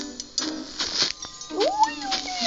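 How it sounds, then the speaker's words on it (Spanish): A cat meows with a rising, wavering cry in the second half, preceded by scattered clatter and background noise, fairly close. "Un gato."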